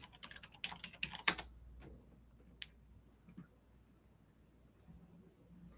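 Someone types a short search on a computer keyboard, giving a quick burst of close key clicks followed by a few scattered taps and then near quiet.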